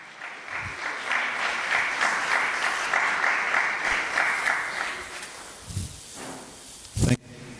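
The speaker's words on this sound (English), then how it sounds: "A round of applause for our DG," Audience applause at the opening of the ARISS Kenya radio contact event with the International Space Station, a steady crowd clapping for about six seconds, then tapering off with a few scattered claps and a thump near the end.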